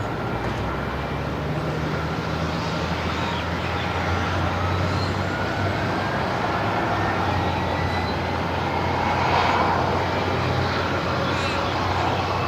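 A Qantas Link Airbus A220 rumbles steadily at Melbourne Airport, a broad, sustained engine roar from a moderate distance that swells slightly partway through, with a speaking voice faintly present.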